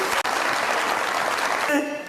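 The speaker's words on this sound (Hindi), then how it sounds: "वासे के लिए तालियां होनी चाहिए" A studio audience on a Pakistani comedy talk show breaks into applause, a dense burst of clapping that runs steadily, then fades as a voice and music enter near the end.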